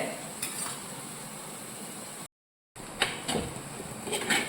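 Onions sautéing until wilted in a pan for a tamarind curry, with a soft sizzle and a few stirring clicks, broken by a brief moment of silence midway.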